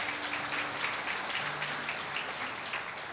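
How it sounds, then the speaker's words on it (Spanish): Church congregation applauding through steady dense clapping that fills the whole stretch, with a faint tone lingering underneath early on. "Un aplauso para mi Padre Celestial."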